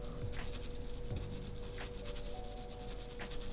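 A mechanical pencil scribbles on paper in random motions, producing a soft, steady scratchy rubbing that comes in repeated strokes, quiet and close, with no talking.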